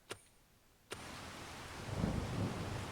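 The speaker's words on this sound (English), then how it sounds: "Uh-oh, is it raining?" Steady rain hiss in Farming Simulator 25 follows a sharp thunder crack near the start, with a second jolt bringing in the downpour, which stays constant and fairly loud with a low rumble swelling midway.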